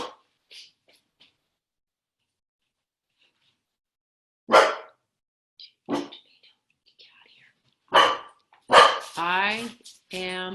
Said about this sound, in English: And the dog is speaking to tell us that she too is love.